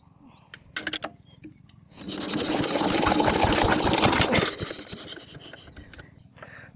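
A shallow irrigation pump engine (shallow engine) cranks with a few sharp knocks, then catches and runs loud with a dense, rattling chug for a couple of seconds before dropping back to a quieter idle.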